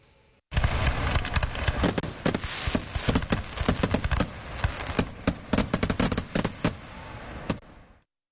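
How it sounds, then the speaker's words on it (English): An Independence Day fireworks display in Henrietta, near Rochester, going off in a rapid, dense run of sharp booms and crackles, loud and close, lasting several seconds before stopping. "many places around our area featured fireworks displays"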